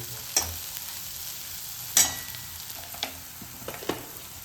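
Onion frying in a pan for a homemade pulao, a soft continuous sizzle broken by a few sharp spatula taps and scrapes, close and fairly quiet, with no talking.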